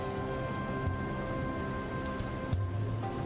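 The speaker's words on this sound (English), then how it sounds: "Still raining." Rain falls in the video game Dustland Delivery, a steady, dense hiss of drops on surfaces with a few soft low thumps, heard alone without any talking.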